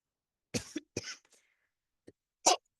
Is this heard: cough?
yes